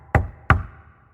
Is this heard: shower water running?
no